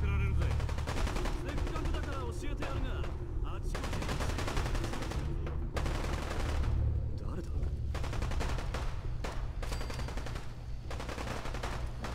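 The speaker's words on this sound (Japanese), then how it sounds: "銃声がすげえ。" Intense gunfire in the video game Fallout 4, with dense bursts of automatic and single shots in rapid, continuous succession, loud and up close with brief gaps.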